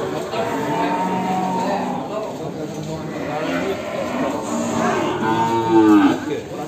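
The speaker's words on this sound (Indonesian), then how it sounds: "keramaian di pasar hewan Gombong, cukup ramai, banyak petani yang mencari pengganti sapi" Cattle lowing at a busy rural livestock market in Gombong, long drawn-out moos rising near the end over a steady murmur of crowd and talk from farmers shopping for calves.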